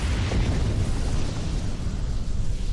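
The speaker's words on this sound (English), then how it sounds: "Yeah, that's a big explosion." A big explosion in the Star Trek Online game on PS4 roars as a loud, sustained, deep boom that fills the whole moment with no talk over it.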